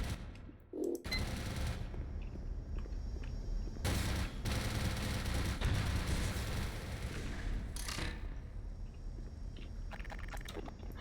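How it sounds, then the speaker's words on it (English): Turret gunfire in the game Black Mesa rattles in loud rapid bursts, with three dense volleys separated by brief gaps and a short quiet moment at the start. "I just heard a turret or something"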